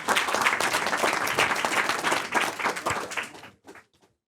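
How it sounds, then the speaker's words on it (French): An audience at a French startup pitch evening applauds in a dense wash of clapping for about three seconds, then it thins out to a few last scattered claps before going quiet. "On l'applaudit."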